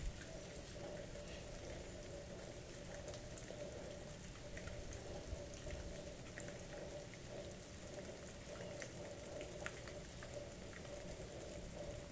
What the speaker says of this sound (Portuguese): Você vê que a chuvinha tá fina,